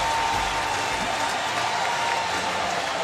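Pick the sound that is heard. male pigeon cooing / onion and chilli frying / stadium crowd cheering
stadium crowd cheering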